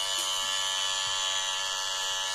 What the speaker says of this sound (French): Allez, tu coupes tout avec la tondeuse.